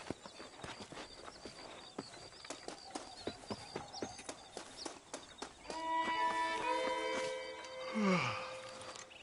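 Horse hooves clip-clopping in a steady walking rhythm during a ride in a Western video game, close and clear, with music swelling in the second half.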